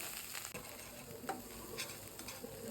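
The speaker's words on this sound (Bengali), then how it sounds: "পেঁয়াজ বাটাটা কষে আসলে এরপর হলুদ, মরিচ, ধনে গুঁড়া দিয়ে সময় নিয়ে কষে নেব।" Onion paste with turmeric, chili and coriander powder sautéing in a pan for mustard hilsa, a steady soft sizzle with scattered stirring scrapes and taps close by, no talking.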